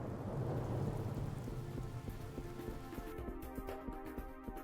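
A thunderstorm in the shooter game Serious Sam Classic: The First Encounter, dense steady rain with a deep rumble of thunder that fades into a drier patter, heard alone without talk.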